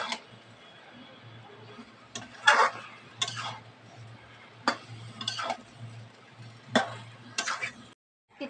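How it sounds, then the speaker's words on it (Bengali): Water lily stems frying with chopped tomato and spices in a pan, stirred now and then, giving soft scraping and clinking of a spatula against the pan over a low steady sizzle. "এবার ভালো করে কষিয়ে নেব।"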